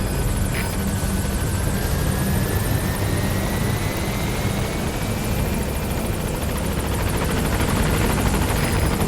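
Helicopter arriving at a landing zone in the video game Metal Gear Solid V: The Phantom Pain, a loud, steady rotor and engine roar that holds without a break throughout.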